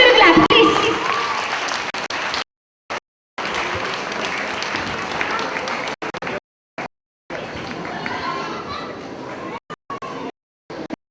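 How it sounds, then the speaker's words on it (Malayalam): An audience at a junior kids fest claps loudly for a child prizewinner, a dense burst of applause that continues in stretches broken by abrupt silent gaps. "നല്ലൊരു ക്ലാപ്പ് പ്ലീസ്."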